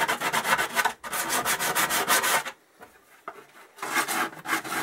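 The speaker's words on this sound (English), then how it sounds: "all this is going to be rubbed down anyway because I'll need to paint it" A Suzuki Hayabusa front mudguard being rubbed down by hand before painting, steady rhythmic scraping strokes, close and loud, broken by a brief pause and then resuming, with no talking.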